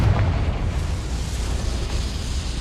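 A Confringo fire spell from the game Hogwarts Legacy bursts into a fiery explosion, a heavy rumbling boom that hits at once and lingers as a dense, roaring blast.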